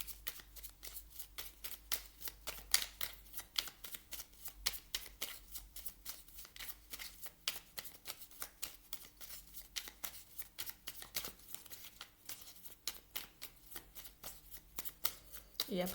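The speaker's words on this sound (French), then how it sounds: "Je vais vous tirer une carte du petit oracle pour s'aimer et s'accepter pleinement." Oracle cards riffled and shuffled by hand in a quick, steady run of crisp papery flicks and taps, fairly close and continuing without pause.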